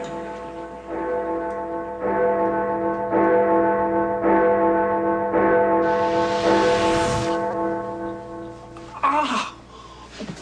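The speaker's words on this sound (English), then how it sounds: "The white light. The angel bells." Bells ring in repeated sustained strikes, each tone hanging and overlapping the next, with a brief noisy burst and a rising shrill sound near the end.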